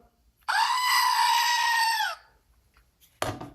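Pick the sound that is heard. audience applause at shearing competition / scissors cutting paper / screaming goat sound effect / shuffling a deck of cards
screaming goat sound effect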